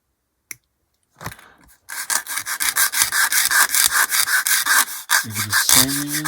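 A part from a 1/48 B-25J plastic model kit is sanded in quick, close, rhythmic back-and-forth strokes after a couple of light taps. The rasping runs steadily for several seconds, with a brief squeak near the end.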